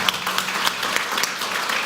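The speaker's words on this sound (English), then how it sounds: "Give us a round of applause." Audience applause for a panel at a fintech conference, steady dense clapping across the room for the whole stretch, moderately loud with no voices over it.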